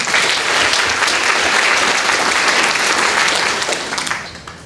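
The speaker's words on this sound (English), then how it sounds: "give yourselves another round of applause" Loud, dense clapping from a graduation crowd fills the space evenly, then tapers off toward the end.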